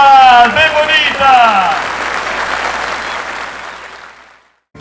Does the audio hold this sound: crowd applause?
yes